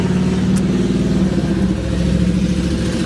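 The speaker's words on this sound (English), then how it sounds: "Now I'm waiting that truck gets by, make it easier to hear me." A truck passing by nearby on a road gives a steady, loud engine rumble that fills the whole moment without easing off.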